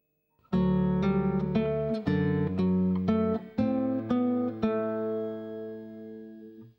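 An acoustic guitar plays the fourth measure of Jesu, Joy of Man's Desiring, about ten plucked notes in a flowing, even rhythm with bass notes held underneath, close and clear, the last note ringing out, with no talking.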